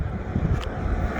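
Breezy wind buffets the microphone outdoors in a steady low rush with a brief gust in the middle, and no voices.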